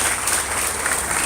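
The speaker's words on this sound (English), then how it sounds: "let's give a round of applause for Natalie and thank Natalie for being an amazing co-host." An audience at a GDG bootcamp event applauds a co-host, a dense, steady burst of clapping from many hands that fills the room without pause.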